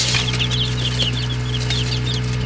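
Small high-pitched peeps and chirps from new baby chicks repeat in quick, overlapping bursts over a steady low hum, close and fairly clear with no talking.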